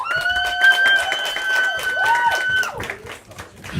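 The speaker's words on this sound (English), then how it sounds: "Give yourselves one final round of applause" A crowd at a live show at Outer Space in Arcata claps steadily under a long, loud, sliding whoop of cheering that drops away near the end, leaving softer scattered applause.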